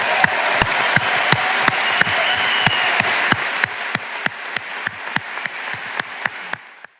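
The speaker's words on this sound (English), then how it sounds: "a huge round of applause to Paddy Cosgrave and the team of the Web Summit" Web Summit attendees applaud loudly in a big hall. A broad wash of clapping is punctuated by strong, evenly spaced rhythmic claps, and the crowd noise gradually thins until only the beat remains and then cuts off.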